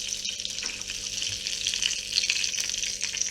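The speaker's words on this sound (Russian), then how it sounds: "Все котлетки дожариваем." Homemade meat patties frying in a pan, a steady close sizzle and crackle of hot oil running throughout with no talk.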